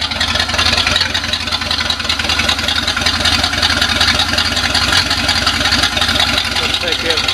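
A 1976 Corvette engine runs steadily, a loud continuous rumbling idle with a busy mechanical clatter, heard up close; voices talk over it.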